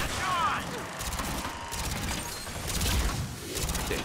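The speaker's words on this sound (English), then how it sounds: "Sentry turret to rescue!" Rapid mechanical gunfire from an automated sentry turret in Mass Effect 3 multiplayer, a busy clattering burst running throughout amid other game combat noise, with no voices over it.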